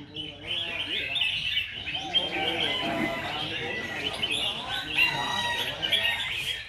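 Red-whiskered bulbuls singing together at a bird song competition in Binh Duong, Vietnam, a dense, continuous chorus of bright chirps and whistled phrases from several birds close by, with faint voices beneath.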